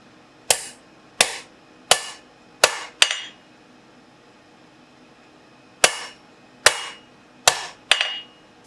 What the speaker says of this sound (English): I'm just using a soft edge on the anvil.